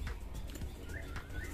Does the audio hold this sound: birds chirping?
yes